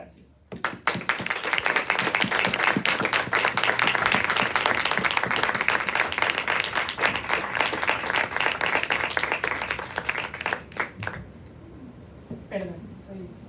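A crowd applauding at a university panel discussion, loud sustained clapping for about ten seconds before it thins out and fades, with a voice briefly heard near the end.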